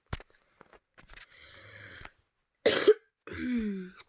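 A single sharp cough, close and abrupt, set between soft mouth noises, brief throat sounds and a voice murmuring quietly.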